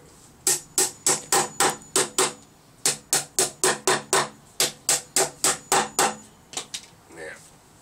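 A hammer drives nails into a homemade wooden toolbox, about twenty sharp, close strikes in quick steady runs with a short pause midway, followed by a faint voice.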